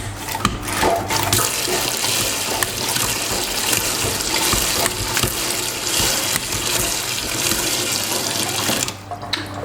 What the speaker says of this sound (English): Now it'll only purge when it builds up enough pressure to clean it, and I can feel it building up pressure